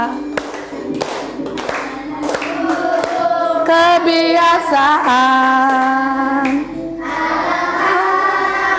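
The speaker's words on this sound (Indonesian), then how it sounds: "Tepuknya." An Indonesian class performs a rhythmic clapping chant about healthy daily habits, with crisp, regular hand claps mixed with loud sung chanting voices.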